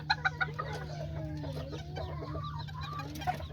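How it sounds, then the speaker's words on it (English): Chickens and small Azteca roosters cluck and murmur continuously in a coop, a few sharp higher calls near the start, over a steady low mechanical hum. "Even the little chicken."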